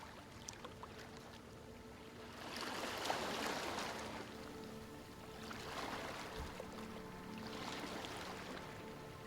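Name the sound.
sea waves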